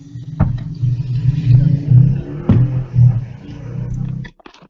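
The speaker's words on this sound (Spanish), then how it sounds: "Siento unos camiones que circulan." Trucks driving past outside produce a low, uneven engine rumble that rises and falls in several waves, with a couple of sharp knocks or clunks along the way. It sounds moderately close and carries no talk.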